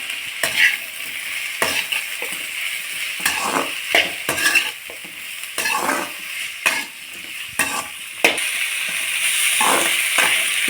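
Ingredients for a village-style coconut chutney sautéing in a pan, a steady sizzle and frying hiss with repeated scraping and stirring strokes of a utensil against the pan, close and continuous without talk.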